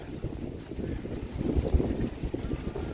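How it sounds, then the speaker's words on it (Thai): Strong wind buffets the microphone in a low, rumbling roar that swells and gusts throughout. "ลมแรงได้ยินไหม"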